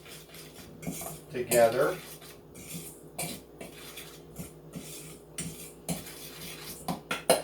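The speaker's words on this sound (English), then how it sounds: "we're going to again blend our dry mix" Dry gluten-free low-carb bread mix with chia seeds and iodized salt being stirred in a bowl, producing repeated clinks and scrapes of a utensil against the bowl, close up and fairly faint, with a brief spoken word and a cough-like sound.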